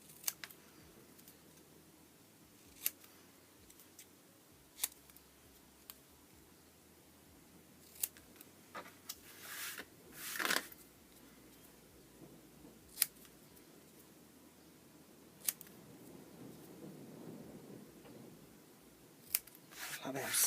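Scissors snipping around paper tags, leaving a thin border: sharp isolated clicks spaced a few seconds apart, close and crisp over a quiet room, with a brief rustle of paper midway.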